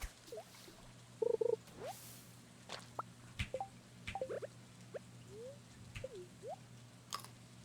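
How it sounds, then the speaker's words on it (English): A frog croaks in Stardew Valley Expanded, a few short soft croaks and squishy chirps scattered among light game drips and blips, faint and close, with no talking. "A frog! Frog! We got a frog chat."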